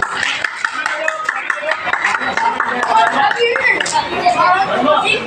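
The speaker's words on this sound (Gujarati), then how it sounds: "તાળીઓથી વધાવજો રણછોડભાઈને" An audience at a community honouring ceremony for a Vagad Chovis Patel elder claps in a loose patter of applause, mixed with crowd chatter and murmuring nearby.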